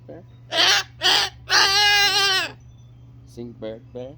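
A pet bird gives three loud, harsh, harmonic calls in quick succession, the last one long and drawn out, followed by a few shorter, quieter squawks nearby.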